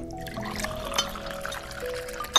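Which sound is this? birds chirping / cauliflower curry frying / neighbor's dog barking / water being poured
water being poured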